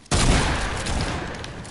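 A single loud gunshot in a video game, a sudden sharp blast that fills the clip and then trails off in a long, noisy echo.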